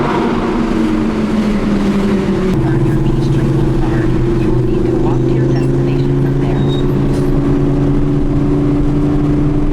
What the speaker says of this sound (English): When you put it to the floor, it'll let you rev.